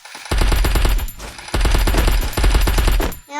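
In the Free Fire video game, automatic gunfire rattles out in loud, rapid bursts of close shots, three runs broken by short pauses.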